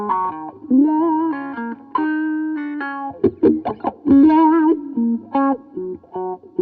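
An electric guitar through a wah-wah pedal plays a melodic line with a sweeping, vocal-like filtered tone that opens and closes on the notes, with short staccato bursts in between.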